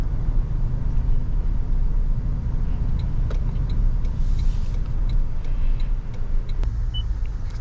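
A 2024 Toyota Tundra TRD Pro pulling hard under acceleration, a steady deep engine and road rumble heard from inside the cab, with a few faint clicks over the drone.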